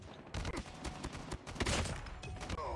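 Gunfire in the mobile shooter Call of Duty Mobile, rapid automatic bursts with sharp repeated shots layered over steady game noise, fairly loud and continuous.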